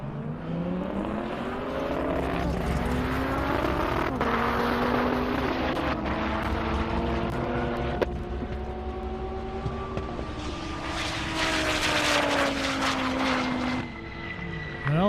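A Dodge Viper drag car launches down a half-mile airport airstrip at Indy, its engine note climbing through repeated rising gear pulls, loud at first then fading with distance over about fifteen seconds.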